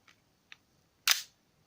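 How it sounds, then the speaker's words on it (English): An airsoft Glock 17 pistol, handled up close: two tiny mechanical clicks, then one crisp metallic snap as the slide is racked back and released, alone in near silence. "let's see if you guys can hear a difference in the slide sound. Right, so Glock 17 first."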